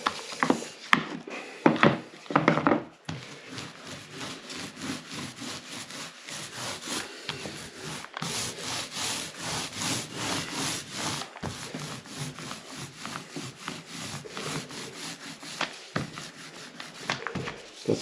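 Paint being brushed or rolled onto MDF trim: close, continuous rhythmic rubbing and scraping strokes repeated over and over, fairly loud, with a few knocks near the start and no talking.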